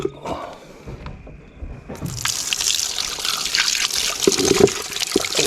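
Tap water gushing over chopped goat meat being rinsed in a kitchen, starting with a few clatters and splashes before a steady loud running stream takes over and continues to the end.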